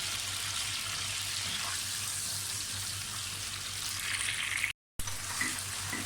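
Garlic ginger paste fries in a pan for urad dal, giving a steady, fairly faint hiss and sizzle that runs continuously apart from a brief silent gap near the end.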